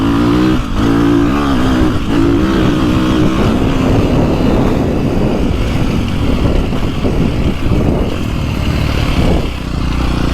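A 2024 Beta 450RX dirt bike engine roars loud and close while being ridden, its pitch rising and falling steadily as the throttle opens and backs off, with no talking.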